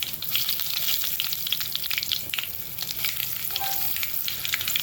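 Curry leaves crackle and sizzle in hot oil with mustard seeds, turmeric and asafoetida for a misal tempering, giving a loud, busy spitting crackle close by that keeps going.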